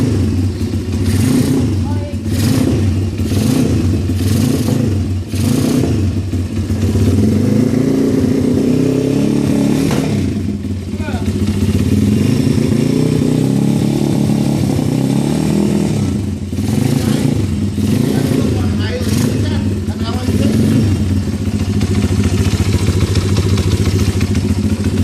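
A 140cc pit bike that has not been started for a while revs close by, with repeated rhythmic throttle blips giving way to a sustained, uneven engine drone and mechanical clatter throughout.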